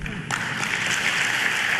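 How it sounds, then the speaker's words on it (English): Audience clapping at a public event, a dense steady wash of applause that swells after a brief quieter start and stays loud and continuous throughout. "And they clapping. Black people clapping."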